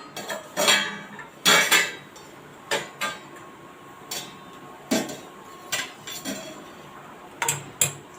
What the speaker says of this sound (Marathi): आपण याच्यावर एक झाकण ठेवून देणार आहोत